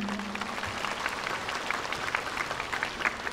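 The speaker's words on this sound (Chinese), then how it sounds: "让我们再一次热烈掌声谢谢他们" An audience applauds a drum ensemble after its opening performance at a Fo Guang Shan gathering, with dense, steady clapping at a moderate distance and no voices.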